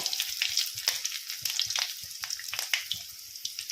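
Mustard seeds, fenugreek and curry leaves sizzling in hot oil for a brinjal curry, giving a close crackling spatter with sharp pops and scrapes throughout and no voices.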